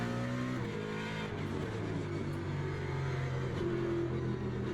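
A race car in Le Mans Ultimate is driven under throttle, the engine droning loud and close with pitch stepping and climbing as it accelerates through the final corners, alone without talk.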